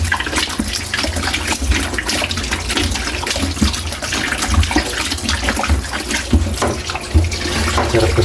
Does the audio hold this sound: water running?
yes